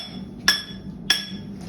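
A hammer strikes the end of a steel drill bit set into rock in an underground hard-rock mine: two sharp, ringing metallic clanks about half a second apart, close and clear over a low background.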